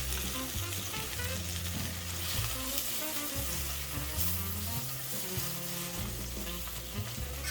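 Spinach wilts in a hot pan with a steady crackling sizzle and bubbling hiss, fairly quiet and continuous, with faint background sounds underneath.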